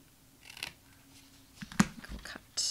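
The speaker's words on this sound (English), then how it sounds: "Just give it a little angle cut" Scissors making a few short, quiet snips into a candy box piece for an angle cut, close up, with some soft handling sounds around the cuts.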